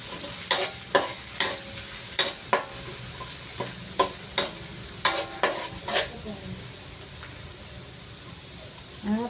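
Onion going into a very hot pan after garlic, stirred for a creamy carbonara with mushrooms and ham: repeated sharp scraping strokes of a utensil over steady frying sizzle, close and fairly loud, no talking.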